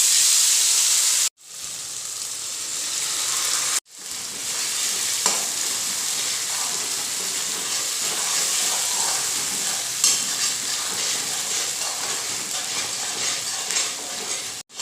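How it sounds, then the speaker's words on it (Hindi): Cumin seeds and tomato paste hit leftover hot oil for a festive dinner dish. A loud, dense sizzle with hissing steam fills the whole stretch, cut off abruptly twice early on. "अब हम इसी बचे हुए तेल के अंदर डालेंगे 1/2 टीस्पून जीरा। जीरा के अच्छी तरीके से क्रैकल होने के बाद डालेंगे टमाटर का पेस्ट।"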